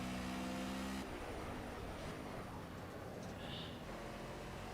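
A race car engine in the racing game Project Cars at Hockenheim National drones steadily, holding a strong tone that drops abruptly after a second into a lower, noisy, sustained rumble.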